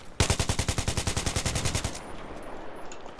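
Sustained automatic gunfire from the Battlefield 3 video game, a loud rapid burst of evenly spaced shots lasting nearly two seconds, then fading into a lingering echoing tail with no talk.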